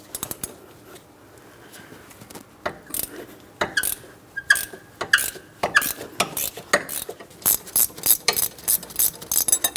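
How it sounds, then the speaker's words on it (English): A ratcheting 18mm wrench turns a bolt during front wheel bearing and hub work on a 2003-2007 Cadillac CTS, producing rapid bursts of close metallic clicks that quicken into a steady ratcheting rhythm. "Now I'm going to switch to my ratcheting side of my 18mm wrench."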